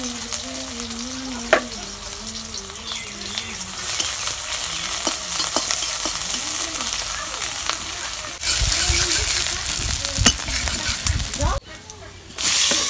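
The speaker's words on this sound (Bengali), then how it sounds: "এখন আমি মাছটুকু কষিয়ে নেব।" Pieces of fish are stir-fried in a hot pan, giving a loud, continuous sizzle with scraping stirs and a few brief surges, while a person talks at times.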